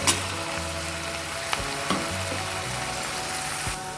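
Pumpkin shoots frying in a pan while being stirred, a steady close sizzle broken by a few clinks and scrapes of a utensil, with no voices.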